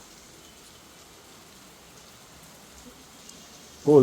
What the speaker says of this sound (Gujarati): બહાર વરસાદ જામ્યો ફૂલે ફૂલ